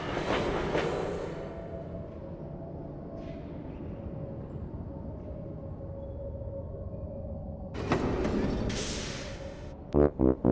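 A steam engine from the PC game Thomas Saves The Day chugs steadily with a broad rumbling hiss, swelling into a louder burst near the end, followed by a few sharp whistle-like tones.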